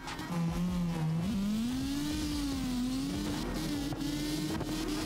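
A LYNX car engine in CarX Drift Racing Online hums close and steady, its pitch rising and dipping as the throttle is worked, with faint tire noise underneath.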